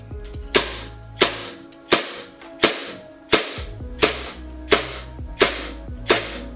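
A WE M92 airsoft gas blowback pistol fires semi-auto, eight crisp snapping shots with the slide clacking back each time, evenly spaced and close, with no talk.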